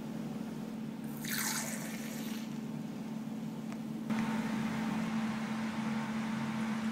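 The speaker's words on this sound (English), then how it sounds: "let's go take a whiz" A thin stream of liquid hitting a plastic cup during a home drug test, heard as a descending splashing hiss over a steady low hum, then fuller trickling that carries on to the end.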